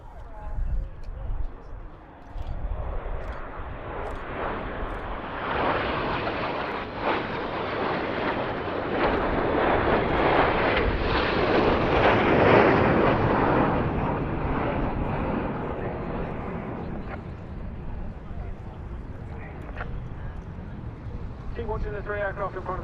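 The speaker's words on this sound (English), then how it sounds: "Keep watching the 3 aircraft in front of us now." Red Arrows BAE Hawk jets fly past at the RAF Cosford airshow, a broad jet roar that swells to a peak mid-pass and slowly fades, while a commentator talks steadily over it.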